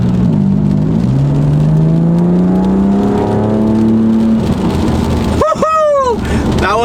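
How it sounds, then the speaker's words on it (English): A BMW M4 accelerating onto a freeway, its engine note sweeping up through the gears with intake roar, turbo whoosh and exhaust blending loudly, then a quick shift and a sharp rising burst. "The mix of like intake noise, turbo, and the exhaust."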